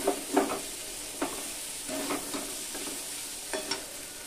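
Chopped boiled eggs being stirred in a pan with a spatula, a series of soft scraping strokes in an irregular rhythm over a faint frying sizzle, close and fairly quiet with no talk.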